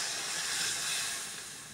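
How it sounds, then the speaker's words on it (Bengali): Water poured into a hot pan of spiced prawns gives off a loud, steady steam hiss that fades slightly toward the end, with no talking. "আমি একটু পানি দিয়ে দিচ্ছি"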